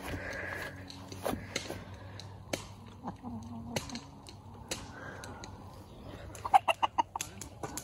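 Chickens dust bathing in a new bed cluck softly amid low background rustling, ending with a quick run of sharper, louder clucks.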